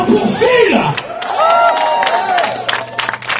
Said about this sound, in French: je vois un tonnerre d'applaudissements pour Phil